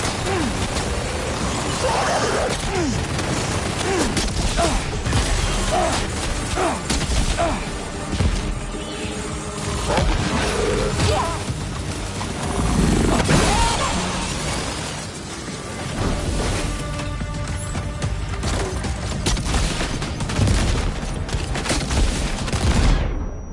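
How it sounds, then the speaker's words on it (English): Video game gunfire rattles in dense, continuous bursts and volleys, loud and close throughout, mixed with crashes and mechanical clatter and occasional game voices. "Prepare to fire."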